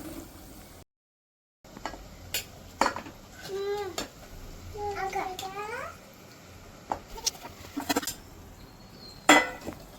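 Marinated meat scooped into a cooking pot for biryani, scattered metal clinks and scrapes of utensils against the pot with soft wet thuds, while an adult and someone talk.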